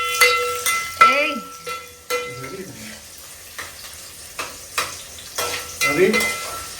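Vegetables frying in a restaurant pan are stirred with repeated scraping strokes over a steady sizzle, with voices speaking intermittently nearby.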